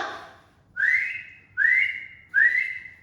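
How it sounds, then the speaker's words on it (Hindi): A person whistles three clear rising notes in succession, each one swooping upward and held briefly, close and loud in a quiet room with no talking. "सीटी बजाना। ठीक है, सीटी बजाना।"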